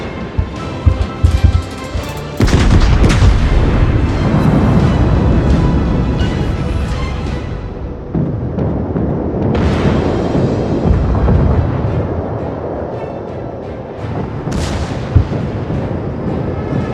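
Warship secondary guns firing in World of Warships, a dense run of loud booming artillery blasts that roll over one another, with sharper bursts standing out near the middle and end.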